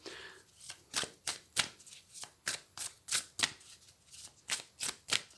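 Tarot cards being shuffled and cut by hand, a run of about sixteen crisp, rhythmic riffles and slaps close up, roughly three per second, with no talk over them.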